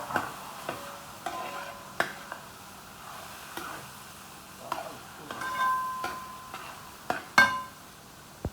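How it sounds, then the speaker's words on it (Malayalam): Soaked broken wheat is stirred in a pan with quiet scraping and occasional clinks of the utensil, close but soft, in uneven strokes. "എന്നിട്ടൊന്ന് ജസ്റ്റ് ഒന്ന് ഇളക്കി കൊടുക്കും."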